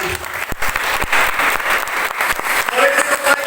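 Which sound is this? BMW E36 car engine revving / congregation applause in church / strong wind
congregation applause in church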